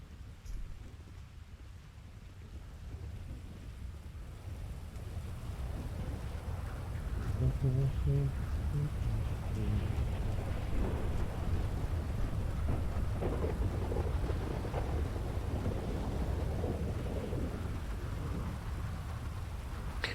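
A storm in the game GTA, with rain hissing and low thunder rumbling that swells louder partway through and then holds steady, and a voice faint underneath.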